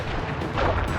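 A fiery wheel firework attack in the Sly Cooper video game bursts out as a loud, dense, crackling blast that fills the whole moment.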